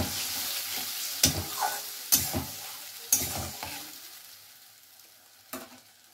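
Spice paste with tomatoes fries in a pan with a steady sizzle, interrupted by several sharp utensil scrapes and clacks as it is stirred.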